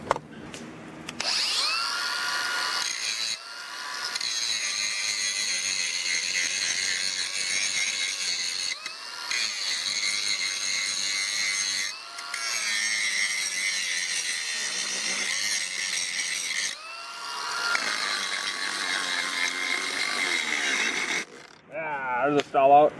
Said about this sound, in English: Do some grinding on the anvil here.